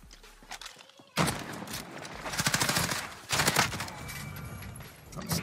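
Loud automatic gunfire in Modern Warfare rattles in rapid bursts after a quiet start, with a long sustained volley followed by a second burst and scattered shots.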